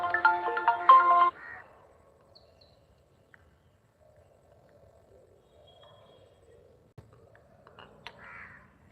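A bright electronic ringtone chimes for about a second, then stops, leaving near silence with a few faint sounds.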